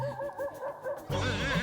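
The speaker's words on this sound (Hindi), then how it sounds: "ये कुत्ता रो रहा है" A dog cries with high, wavering whimpers in a domestic sitcom scene, several short plaintive whines in a row and then a louder, sustained wail, close by and with no talk.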